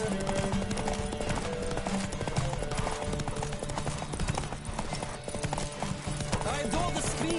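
Galloping horse hooves in The Witcher 3 drum quickly and steadily at close range, blended with loud game music and surrounding ambience throughout.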